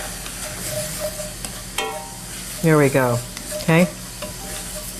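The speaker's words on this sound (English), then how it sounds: "we're going to add a little bit of water. All right. And that's going to deglaze the pan" Onions frying in a hot pan as a splash of water deglazes it, giving a steady sizzle and stirring beneath brief talk, with a couple of louder bursts of hiss and clatter near the middle.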